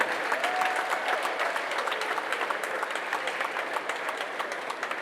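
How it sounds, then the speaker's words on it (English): An audience keeps clapping for Professor Opoko Ajiman at a Ghanaian event, an even, sustained wash of many hands at moderate level lasting about five seconds, no voices standing out. "round of applause for him."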